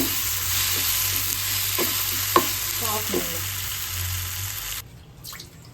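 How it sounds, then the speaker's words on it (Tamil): Tomatoes are sautéed in a pan until mashed, giving a steady close sizzle with scraping stirs and a few light clinks before the frying noise drops away near the end. "நல்லா தக்காளி மசிற வரைக்கும் வதக்கணும்."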